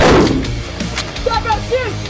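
One loud, sharp gunshot cracks at the very start on a firearms training range, then someone speaks over the fading echo.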